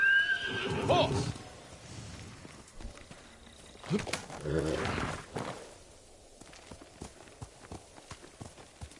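In the PS5 video game Ghost of Tsushima, a horse whinnies loudly, then hooves clip-clop and thud amid scuffling movement, with a second neigh midway before steps fade into lighter footfalls.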